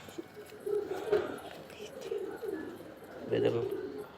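Pigeons coo repeatedly in a home loft, several low throaty calls rising and falling close by, with a louder burst near the end and faint rustling in between.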